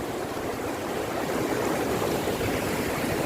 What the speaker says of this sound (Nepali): यो बालासन खोला यसलाई हामीले ठुलो खोला भन्छौँ